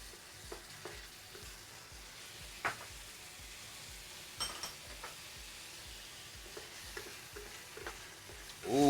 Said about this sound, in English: we're going to add our ginger and our garlic. I'm going to mix that all up and let it fry for a minute.